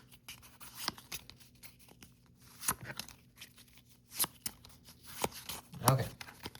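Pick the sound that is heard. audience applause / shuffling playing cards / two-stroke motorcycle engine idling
shuffling playing cards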